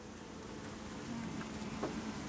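Honey bees hum as a faint, steady buzz at a crowded beehive, heard close but quiet with no talking.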